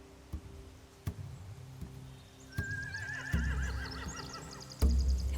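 Horses neighing in The Walking Dead video game, a loud wavering whinny rising out of a dark ambient bed with sharp knocks and thuds, followed by more shrill neighs and heavy low impacts near the end.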